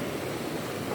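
Ocean waves washing onto the shore at Sabang during a fishing outing, a steady broadband rush of surf filling the whole second with no clear breaks.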